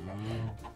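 Clucking chickens in a farm-building video game, a short burst of close, layered hen calls with a low droning tone underneath.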